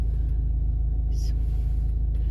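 A car on the move, with a steady low engine rumble and road noise filling the whole stretch, loud and close, and a brief higher hiss partway through.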